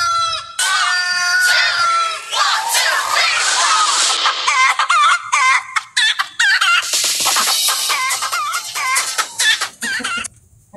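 A flock of chickens clucks and squawks continuously and loudly, with a rooster crowing among them and busy overlapping calls throughout.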